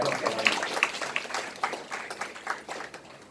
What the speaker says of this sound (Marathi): त्याच्यासाठी जोरदार टाळ्या केला